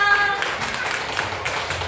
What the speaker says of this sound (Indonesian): tepuk tangan buat anak pintar